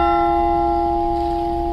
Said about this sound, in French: quand on entend, on dit c'est une cloche qui donne un Fa